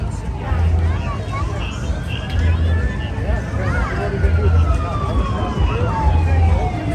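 A police siren wails with a long, slowly gliding tone at the opening of the Woodward Dream Cruise, heard over a low, pulsing engine rumble and steady traffic noise.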